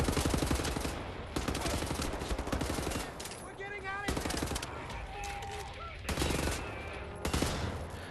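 Sustained heavy gunfire in Wolfenstein: The New Order, loud continuous rattling bursts in a prison battle, with brief voices heard among the shots.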